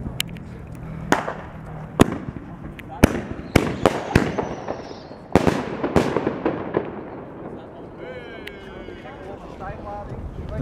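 Fireworks shells in Valencia launch and burst as a string of sharp, loud bangs spaced irregularly, with crackling tails and wind noise on the microphone, then fading to softer crackle at the end.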